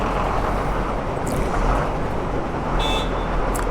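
Road traffic builds up behind a vehicle on a mountain route near Thang and Turtuk, India. Steady engine and road rumble fill the clip, with a couple of brief horn toots near the end.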